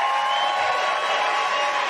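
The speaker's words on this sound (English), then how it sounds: "Booing is allowed, but it doesn't change the truth." An audience at a Republican primary debate boos in a steady, loud, unbroken crowd roar that fills the whole moment with no clear voice rising above it.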